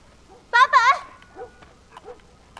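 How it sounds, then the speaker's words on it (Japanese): Dog barking in the game The Last of Us, a short burst of two or three close, loud barks followed by fainter sounds in a quiet indoor scene. "犬が吠えている。"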